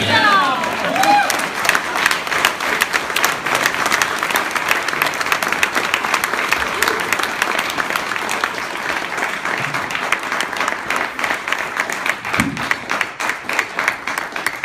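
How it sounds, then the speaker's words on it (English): Dense, sustained applause from a crowd at a retirement roast, steady and loud throughout with a little cheering and chatter mixed in. "applause, applause, applause, applause"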